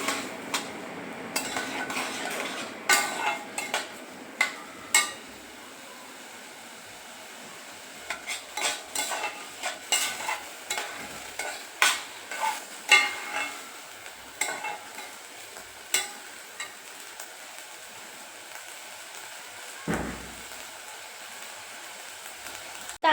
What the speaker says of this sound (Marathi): आता हे तांदूळ होते व्यवस्थित असे आपल्याला भाजून घ्यायचे